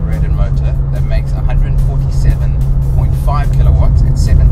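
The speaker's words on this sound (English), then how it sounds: "Uses a high revving 2-litre naturally aspirated motor" Renault Clio Gordini RS with a high-revving 2-litre naturally aspirated engine, driving with a steady loud engine drone and road noise under continuous talk.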